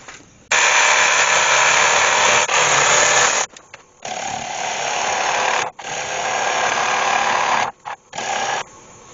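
A wood lathe spins a spalted ash bowl while a chisel hollows out its inside, giving loud, scraping cutting passes that start and stop several times with short pauses between.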